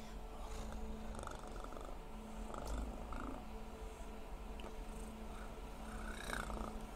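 A voice imitates a cat purring right into an ASMR microphone, a continuous low, fluttering rumble held close and fairly soft, steady across the stretch with small surges in strength, and no speech over it.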